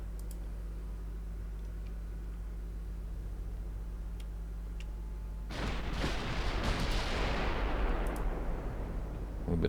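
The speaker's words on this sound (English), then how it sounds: "Let's see if I can get a good picture of the battleships firing." Battleship guns fire in the naval game Ultimate Admiral Dreadnoughts: a low steady drone, then a sudden loud burst of rumbling gunfire that rolls on and tails away, with no talking.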